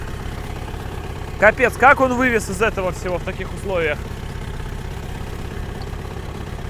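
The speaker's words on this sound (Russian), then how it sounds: "У него звук такой стал тракторный уже совсем" An old Soviet car's engine, down to two working cylinders, runs with a steady, rough, tractor-like low drone throughout while someone talks over it.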